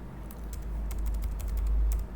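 A few quick clicks on a computer keyboard as a shortcut is entered, sharp keystrokes in small clusters over a low steady hum, close and fairly quiet with no talking.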